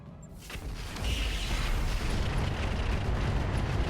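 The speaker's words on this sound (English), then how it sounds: "we're going to drop bombs on this heavy mortar" Bombs dropped on a heavy mortar in the RogueTech video game explode, starting as a quiet hush that swells into a deep, sustained roaring rumble of blasts that holds to the end.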